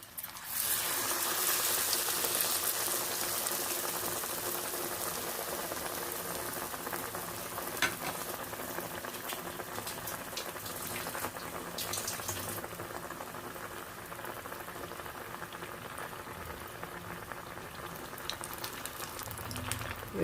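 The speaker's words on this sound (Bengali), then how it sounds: "আমি একটা একটা করে ভেজে নিচ্ছি" Raw papaya pakoras deep frying one by one in hot oil, a steady, loud bubbling sizzle that fills the whole stretch with no talk.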